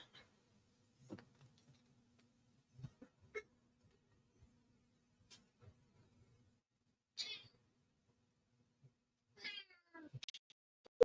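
A cat gives a few soft, faint meows spaced apart in a quiet room, with small scattered clicks and rustles in between.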